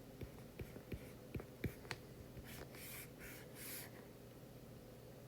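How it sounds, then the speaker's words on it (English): A pen scratches and taps on paper in short strokes while an economics review problem is worked out, quiet and close, with faint breathy noise afterward and no speech. "I'm just going to write this here"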